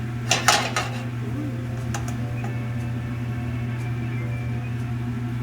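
Egg fried rice stirred in a pan on the stove: a quick burst of metal clinks and scrapes near the start, then a quieter stretch with a steady background hum.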